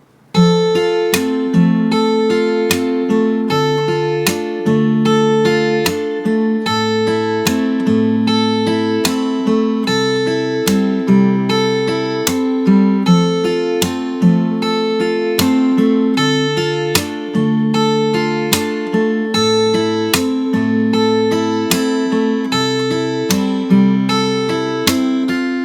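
Fingerstyle guitar plays the intro of a song, a steady, evenly picked pattern of ringing chords and bass notes that repeats throughout, close and clear with no talking.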